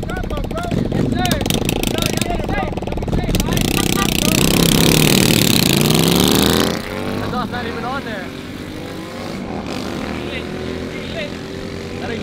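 A BMW S1000RR sport motorcycle engine revs loudly and climbs in pitch, then drops back to a rumbling idle as it passes, with voices talking throughout.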